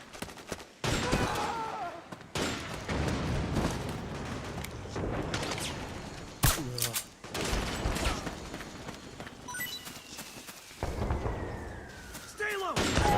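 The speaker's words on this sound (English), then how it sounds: "Shots fired. Sniper." Sniper gunfire in the Metal Gear Solid 4: Guns of the Patriots video game, with sharp loud shots and bursts in a busy battle soundscape, sudden cracks and booms, and shouting voices mixed in.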